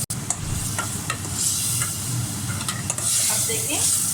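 For aloo gosht, onion paste fries in a pan, sizzling loudly and continuously close up while a spoon stirs and scrapes it in repeated strokes, with a few sharp clicks.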